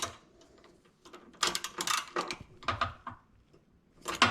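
A 12 mm bolt is snugged down on the intercooler of a 2018+ Honda Accord. Quick bursts of close ratcheting clicks come in uneven spurts, with short pauses between them.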